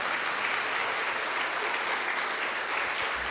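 A church congregation applauds during a Catholic service, with dense, steady clapping from many hands filling the space at a constant level and no voices standing out above it.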